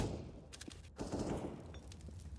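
Gunfire from an AWP sniper rifle fired without scoping in Counter-Strike: Global Offensive, a few sharp shots over a dense match soundscape with busy background noise.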